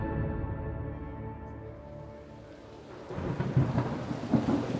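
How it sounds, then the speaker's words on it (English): Rain falls steadily with a soft hiss, joined by low rolling thunder and a swelling rumble of a storm, used as a sound effect in a history podcast. "A light rain falls on the crowd"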